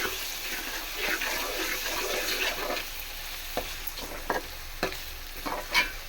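A beaten egg mixture fries in a hot pan while a spatula stirs and scrapes through it, giving a steady soft sizzle with several sharper clacks of utensil against pan toward the end.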